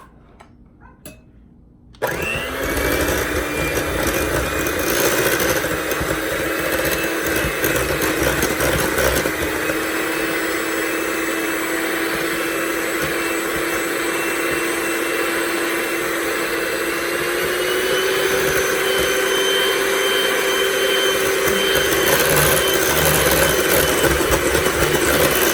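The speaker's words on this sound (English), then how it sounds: "we're going to just beat it with an electric mixer" Electric mixer beating key lime cheesecake filling, starting abruptly and running as a loud continuous motor whir with a steady pitch that shifts slightly higher toward the end, no talk.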